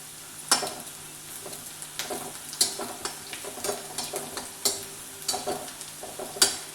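Onion with salt frying and being stirred in a pan, a steady low sizzle broken by repeated sharp scraping strokes of a spoon roughly every half second to second, close and fairly quiet, with no talking.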